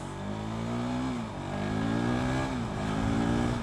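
KTM RC390 motorcycle engine revving on a race track, continuous loud mid-pitched drone rising and falling in pitch as it accelerates and shifts, no voices.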